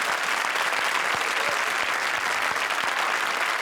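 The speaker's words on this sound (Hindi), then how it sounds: "जोरदार तालियां हमारी दोनों जोड़ियों के लिए" Dense, steady applause from a comedy show studio audience, loud and continuous throughout with no voices over it.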